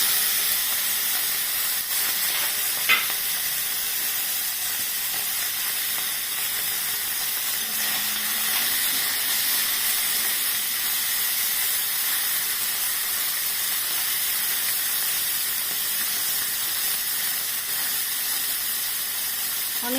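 Small mourala fish fry in oil with turmeric, a constant soft hiss and sizzle that stays close and even throughout, with one brief tap and no talking.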